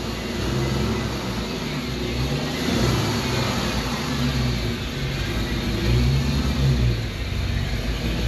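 A vintage Scout's engine runs at a steady mid-pitched rumble with mild revving as it rolls into a garage shop, close and continuous with no talking.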